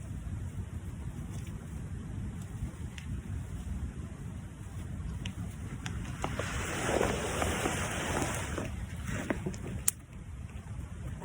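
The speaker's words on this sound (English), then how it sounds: "When it does blow, it's blowing pretty dang hard." Hard wind in the big woods during a deer hunt, a steady broad rush that swells midway, with buffeting noise against the microphone and no one talking.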